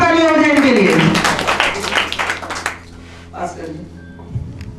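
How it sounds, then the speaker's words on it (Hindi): Audience clapping at a New Year's Eve quiz event, a broad wash of applause that starts loud beneath a speaking voice and fades over a few seconds. "जोरदार तालियां हो जाए इनके लिए।"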